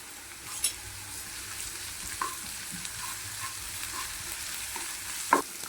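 Onion and ginger garlic paste fry in a pan for a chicken sandwich filling, a steady close sizzle with occasional soft stirring clinks and scrapes. No one speaks.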